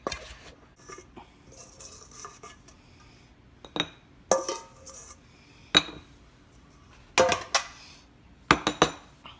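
Kimchi is spooned into glass mason jars, giving scattered clinks and sharp knocks of glass and utensils at irregular intervals over quiet, wet handling sounds.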